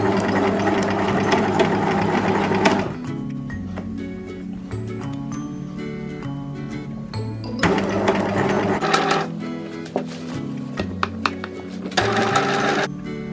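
A sewing machine stitches fabric for a curtain, its needle whirring in rapid mechanical bursts that start and stop, with clicks and pauses between runs, close and loud.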